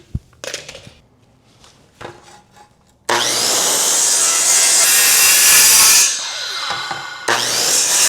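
A power saw, with blade depth set to 1 3/4 inches, cuts loudly through wood in a sustained, high whining burst, then a second cut begins after a short pause. Light knocks and handling sounds come first.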